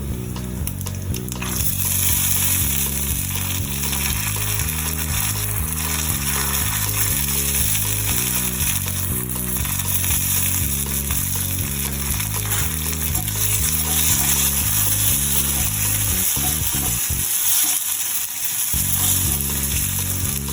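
Spices and soaked chana dal fry in oil for tamarind rice (pulihora), giving a continuous sizzling hiss over a loud, steady, rhythmic music bed that runs the whole time.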